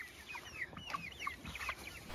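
Chickens inside a homestead chicken tractor cluck in short, overlapping calls. The clucks are close and steady over a brief stretch, with no talking.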